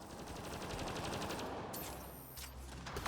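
Rapid automatic weapon fire from a sci-fi shooter, Mass Effect Andromeda, crackling in a continuous burst over droning game music and ambience throughout, loud and steady with no pause.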